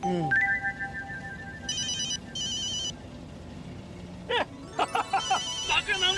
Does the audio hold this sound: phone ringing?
yes